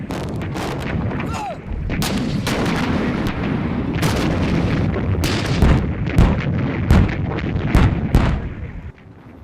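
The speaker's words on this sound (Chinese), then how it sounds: "我南线高地防线突然遭到红军炮火急袭，攻势非常猛烈" Heavy artillery barrage in a war drama, with continuous loud booms and explosions rolling together and sharp blasts cracking through the dense roar.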